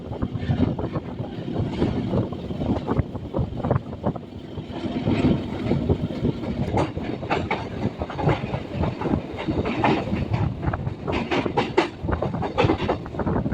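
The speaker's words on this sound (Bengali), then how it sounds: "ট্রেন এখন বেরিয়ে যাচ্ছে" A Naihati–Ballygunge local train rumbles steadily along the tracks past Kolkata station with rhythmic clickety-clack from the wheels, loud and close throughout, with no talking.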